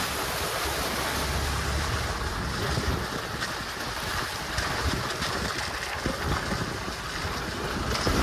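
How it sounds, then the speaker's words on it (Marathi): Waterfalls flow beside a mountain road in the Konkan ghats, a broad steady rushing roar with wind buffeting the microphone, continuous and fairly close, no voices. "हे सुके खिंडी मध्ये बघा असे मस्त धबधबे प्रवाहित झाले"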